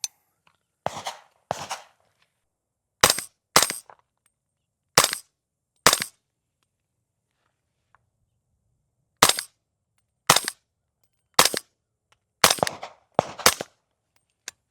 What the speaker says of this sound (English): Let's go ahead and take a couple shots with the suppressor and see how it sounds.